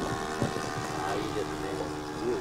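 A Saito 30GK glow engine on a model aircraft runs with a steady, buzzing drone at a moderate distance, while voices talk over it.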